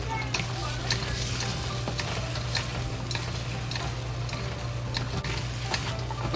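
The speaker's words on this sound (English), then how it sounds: "Stir fry." Pork and sweet-and-sour sauce stir-fried with cilantro in a hot pan, giving a steady close sizzle with scattered scrapes and clicks of a utensil stirring, constant throughout.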